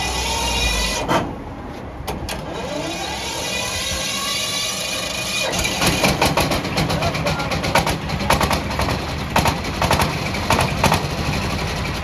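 A tractor engine at a dealer's showroom cranks, then starts and keeps running with a rough, rattling, mechanical roar that builds and grows choppier toward the end, close and fairly loud.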